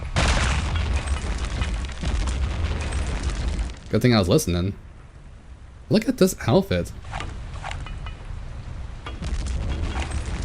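Grenade blasts in Return to Castle Wolfenstein, a dense run of loud booming rumble filling most of the stretch, dropping out briefly while people talk over and between the bursts.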